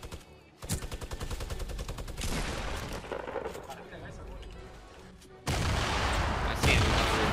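Rapid bursts of gunfire from a player shooting in Fortnite Battle Royale hammer in dense, repeated volleys, with a louder, sharper burst near the end. The shots are close and forceful.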